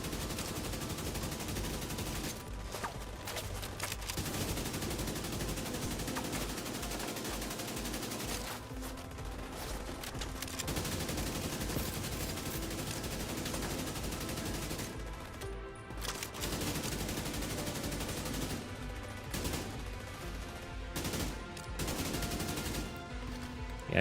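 Sustained light machine gun fire in The Division 2, long rapid bursts broken by brief pauses, loud and close with no talk over it.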